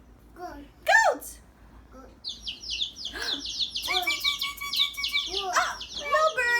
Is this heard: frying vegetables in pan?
no